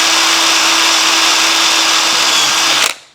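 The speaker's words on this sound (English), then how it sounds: "So just run the drill through those as well." A power drill runs steadily and loudly, reaming out tight bolt holes in 3D printed bracket parts for an RB200 build, a continuous whine that stops abruptly near the end.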